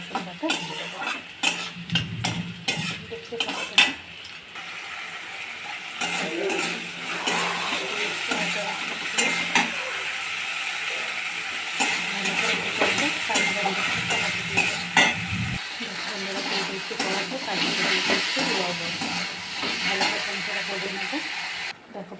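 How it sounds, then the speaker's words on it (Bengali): Onions frying with chillies in a pan for a katla fish dish, a continuous sizzle with spoon stirring and utensil scrapes against the pan, fairly close and steady. "তার পেঁয়াজটা দিয়ে দিয়েছি একটু লাল লাল করে ভেজে নেবো"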